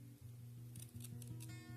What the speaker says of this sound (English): I'm going to use a pair of scissors